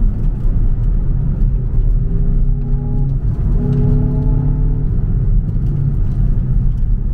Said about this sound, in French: Le son moteur, il est très sympa aussi